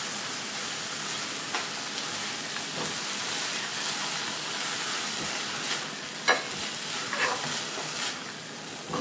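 Tomato sauce being stirred into sizzling onion masala in a pan, a continuous hissing fry with occasional sharper scrapes and clicks of the spoon, close and steady without any talk.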